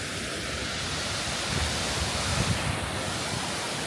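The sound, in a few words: waterfall at Thousand Springs, Idaho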